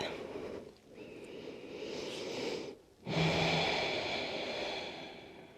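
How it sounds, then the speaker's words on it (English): Deep, slow breaths during a yoga practice come as a long airy inhale and exhale, a brief pause, then another sustained breath, close and soft with no talking. "One more deep breath in. Deep breath out."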